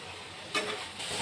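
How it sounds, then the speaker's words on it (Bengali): Spices with chopped green chilli, coriander leaves and capsicum fry in a pan, a soft, steady sizzle with brief stirring swells and no talk. "চলুন মশলা ভাজা হয়ে গেছে"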